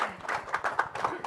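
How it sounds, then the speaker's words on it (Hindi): Clapping from an audience welcoming a guest on stage at a music event, brief and fairly soft, with several distinct claps in an uneven rhythm. "जोरदार तालियां हो जाए राहुल जी"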